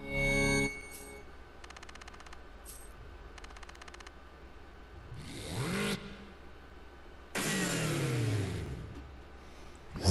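A street-racing car in Super Street The Game revs its engine, rising whine sweeps climbing sharply twice over a low idle, loud and close, with rapid mechanical rattling bursts between.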